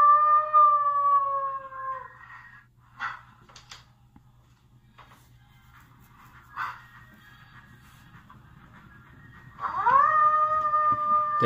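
A person imitates a wolf howl, with a long rising-then-falling wavering cry at the start and another beginning near the end, separated by quieter gaps with a faint steady hum underneath.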